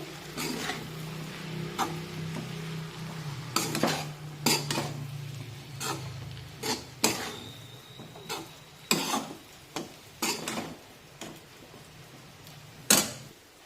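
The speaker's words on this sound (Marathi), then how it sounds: "यामध्ये हे बारीक केलेले चपातीचे तुकडे टाकूया मिक्स करून घेऊ" Chopped pieces of leftover chapati are stirred in a pan with a metal spoon, giving irregular sharp scrapes and clinks against the pan over a soft, quiet background.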